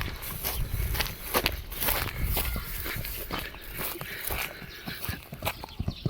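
A horse walks along with a steady, fairly close clip-clop of hooves that keeps an even rhythm. A low background murmur sits under the hoofbeats for the whole stretch.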